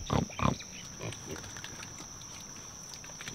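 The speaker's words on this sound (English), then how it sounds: "Okay, I guess the pigs bite." Pigs give a couple of loud close grunts and snorts at the start, followed by softer snuffling and scattered grunts under a steady high whine from the surroundings.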